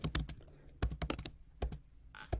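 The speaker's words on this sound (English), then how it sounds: "We can type our words over here." Fingers type text on a computer keyboard in short, irregular bursts of close, crisp key taps with brief pauses between them.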